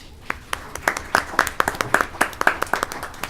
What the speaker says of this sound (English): Special claps in the third row.